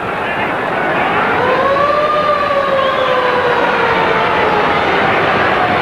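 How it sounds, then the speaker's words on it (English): Half-time siren at a rugby league match sounds one long, loud, continuous wailing tone that rises slightly and then holds steady over crowd noise for several seconds. "Half-time siren."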